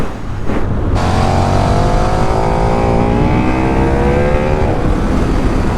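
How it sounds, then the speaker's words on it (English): A KTM 1390 Super Duke R motorcycle revs hard on launch control and pulls away, its engine note climbing steadily through the gears in a loud, sustained rising roar close by. "Let's have a go at launch control."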